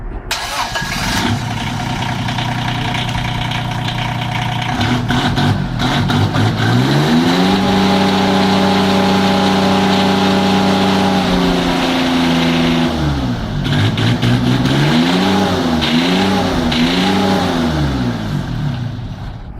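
Diesel engine with a gear-type starter motor in an automotive workshop, cranking and catching, then running loud and steady close by, with its pitch rising and falling through several revs.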